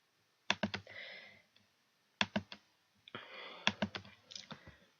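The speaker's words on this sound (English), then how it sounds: "I'm using my keyboard clicker." Clicking of a computer keyboard used in place of a broken mouse during an online course tutorial: three quick bursts of sharp, close key clicks with short quiet gaps between them.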